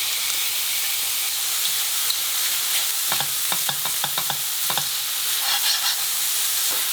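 Onions and calamari sizzle in a paella pan, a loud and steady frying hiss with a run of quick scraping stir strokes partway through, close by and with no one talking.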